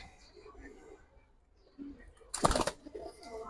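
A Giribaz pigeon of the silver-colouring high-flyer kind gives a short cluster of soft, close coos, with a brief burst of wing or body rustle midway, in a quiet indoor loft with no voices.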